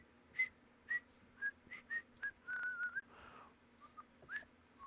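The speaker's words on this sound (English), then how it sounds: "Is someone whistling?" Someone whistles a short tune of separate bright notes in an indoor room over a faint steady hum, the pitched tones clear and moderately close, with no talking.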